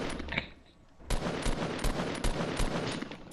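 Distant gunfire from enemy players in a battle royale game, several sharp bursts at uneven intervals cutting through steady background noise, with a brief quieter stretch before the shots begin.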